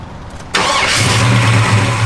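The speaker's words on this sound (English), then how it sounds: "big block 454 car, power steering, power disc brakes. Car runs out strong, as you can hear." A 1972 Chevrolet Chevelle with a big-block 454 V8 fires up abruptly after a quiet moment and settles into a loud, steady running rumble close to the listener, with no talking.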